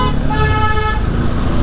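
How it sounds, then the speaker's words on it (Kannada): A vehicle horn honks steadily on a road in Ujire, Belthangady, a sustained bright tone lasting the whole moment over a busy traffic rumble, close and loud. "ಹಾರ್ನ್ ಹಾಕೋದೇ ಆಯ್ತು ಜಾಸ್ತಿ"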